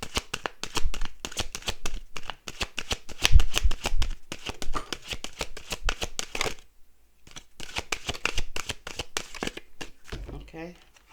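Cards for a card reading are shuffled close up in fast riffling flutters, with a short pause before the shuffling resumes, while someone talks over it.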